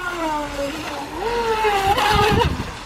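An Atomik Barbwire 2 brushless RC boat runs at full throttle on the water, a high whining motor tone that shifts pitch as it speeds away and then surges louder near the end with splashy bursts.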